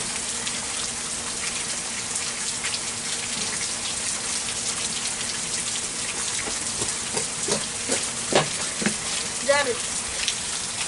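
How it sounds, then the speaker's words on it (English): Heavy hurricane rain pours down in a steady, dense hiss that fills the scene, with a few louder splashes and brief voice sounds late on. "Y'all, this rain have picked up."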